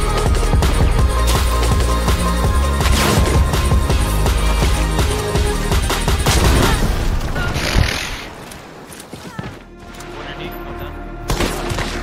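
Gunfire from the video game Hunt: Showdown rings out in loud, repeated sharp cracks and booms, dense through the first eight seconds, then sparser shots over quieter ambience near the end.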